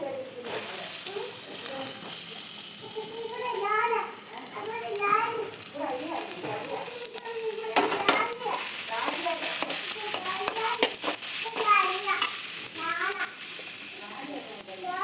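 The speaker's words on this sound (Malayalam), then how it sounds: "സവാള ഇട്ട് കൊടുക്കാം" Sliced onions sizzle in hot oil for a Kerala-style soyabean curry, a faint steady frying hiss heard beneath almost continuous talking and children's voices.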